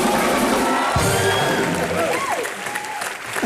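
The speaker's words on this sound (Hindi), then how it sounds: "प्रभु सर के लिए जोरदार तालियां" A studio audience at a comedy talk show bursts into loud, sustained applause with scattered cheers and whoops. Voices call out over the clapping.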